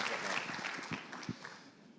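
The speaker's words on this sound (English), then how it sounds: "keep clapping" An audience at a business conference presentation applauds, the clapping faint and distant and tapering off over two seconds.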